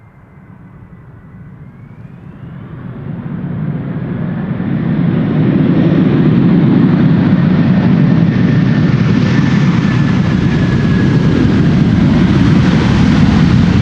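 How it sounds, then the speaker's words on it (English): Airplane approaching Schiphol Airport, a broad roar swelling from faint to loud over several seconds with a thin whine above, then holding steady and strong as it passes near. "Third airplane approaching from the east in the background."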